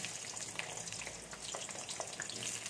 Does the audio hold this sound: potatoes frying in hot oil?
yes